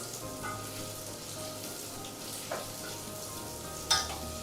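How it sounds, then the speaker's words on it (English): Pieces of meat or vegetables fry gently in ghee for biryani, giving a soft, steady sizzle with a few faint clinks, and no voices. "We are going to add this to the ghee and cook it in this"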